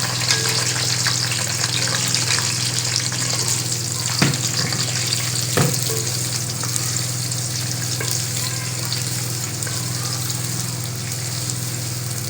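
Onions fry in hot oil for a biryani, giving a steady, loud, close sizzle that holds evenly throughout, with a couple of faint clicks from stirring and no talking.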